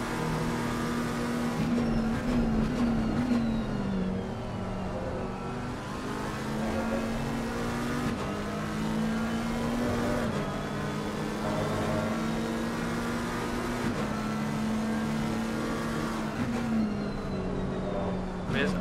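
BMW GT race cars circling Imola in Assetto Corsa Competizione, engines droning steadily with rising and falling revs and gear changes, one car close and loud while another approaches from behind, no talk.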